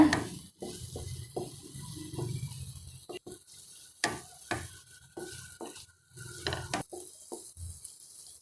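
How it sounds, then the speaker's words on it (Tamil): Spices such as chilli powder and garam masala being stirred in a pan for chilli bread, with repeated scraping strokes of a spoon against metal and a quiet sizzle between them. "எல்லாத்தையும் நல்லா கலந்து விட்டுக்கோங்க"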